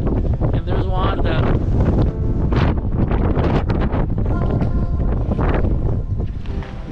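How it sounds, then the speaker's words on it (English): Strong wind gusts roar across the microphone on a high viewpoint above the Missouri River, loud and continuous with buffeting rumbles, while people talk throughout. "It's really windy today."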